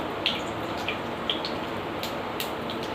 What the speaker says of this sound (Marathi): मोहरी चांगली तडतडली की नंतर त्याच्यामध्ये जिरं घालून घेऊया।